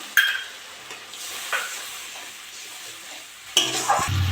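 Water hits a pan of spice masala cooked down with tomato paste for a potato and rohu fish curry, giving loud bursts of sizzle and hiss. Steady stirring scrapes and a softer frying crackle run between the bursts.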